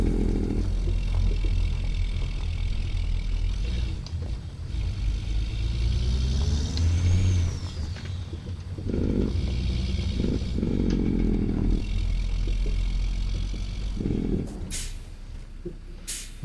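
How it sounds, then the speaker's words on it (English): Mack truck engine and exhaust in American Truck Simulator, pulling a cattle road train in Australia, a deep rumbling drone rising and falling through gear changes, with hissing bursts between revs. "Listen to it. This is quality, I'm just saying. Sounds like freaking exhaust."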